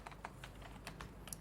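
Clicky keystrokes on a computer keyboard while Python code is typed, a quick irregular run of about a dozen near, distinct taps with no speech.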